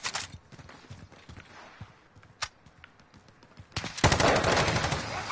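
Video game gunfire during a squad firefight, scattered sharp single shots and short bursts that build into a dense, loud rapid volley near the end.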